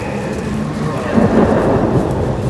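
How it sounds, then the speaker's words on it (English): A game thunderstorm with rain in Hellblade 2: loud steady rainfall and a rolling rumble of thunder that swells midway, with no voices. "He brings the storms with him."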